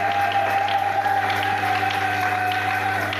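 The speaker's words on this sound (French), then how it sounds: "J'aime des acclamations." Steady applause from a church congregation during a Sunday worship service, continuous and moderately loud, with a sustained musical tone running underneath and no clear speech.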